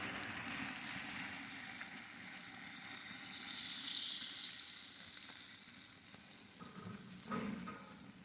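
Water is added to a hot frying pan of bograch (Hungarian goulash) and sizzles loudly, hissing steadily, then crackles and spits up close.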